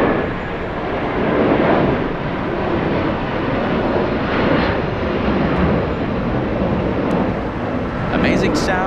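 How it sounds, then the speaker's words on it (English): A United Airlines Boeing 757 powered by Rolls-Royce RB211 engines departs from LAX toward Houston, its loud, sustained engine roar rumbling steadily with gusts of wind buffeting the microphone throughout. "The sound from these Rolls-Royce engines, incredible."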